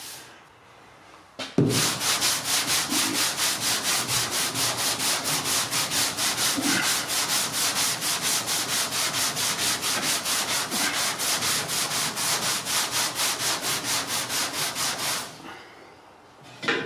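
Hand sanding of a Ford ZF Fairlane's body with 60 grit sandpaper gives a loud, steady, rhythmic scratching of quick back-and-forth strokes lasting about fourteen seconds, with quiet before and after.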